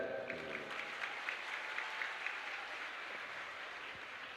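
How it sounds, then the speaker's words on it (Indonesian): A steady wash of audience applause greets the mayor of Surakarta at a religious sermon gathering, faint and evenly sustained, with a voice briefly audible near the start. "a-sama kita hormati Mas Wali Kota Surakarta, tepuk tangan untuk Mas Gibran."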